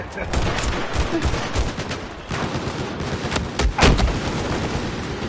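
Rapid gunfire from Battlefield 4 rings out in sharp, loud, overlapping shots and bursts across the whole stretch, with brief lulls between volleys.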